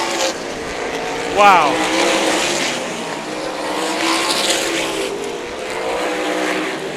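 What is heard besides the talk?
sprint cars racing at Meridian Speedway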